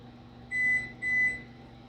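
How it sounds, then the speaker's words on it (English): A kitchen timer sounds two distinct electronic beeps, each about half a second long with a short gap between them, clear and fairly close over a quiet room hum, with no speech while moussaka bakes in the oven. "I'll set my timer."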